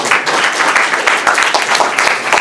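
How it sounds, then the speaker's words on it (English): An audience applauds at a lecture on free markets and national solidarism hosted with a Polish pro-market nationalist institute. The clapping is dense, steady and fairly loud for the whole stretch, with no speech over it. "please give an applause"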